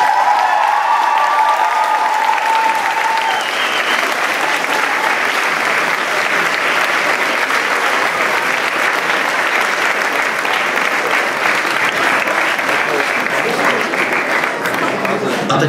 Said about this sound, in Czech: prosíme ještě o jeden velký potlesk